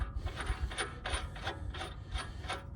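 A nut being threaded back onto the bolt of a FenFab billet vertical arm on a Ford Explorer ST: repeated close, raspy metallic rubbing and ratcheting strokes in an even rhythm, with no talking.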